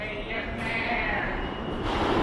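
A steady low rumble of a New York subway train running at the 23rd Street station, with a continuous hum and faint rattling, close by and fairly even throughout.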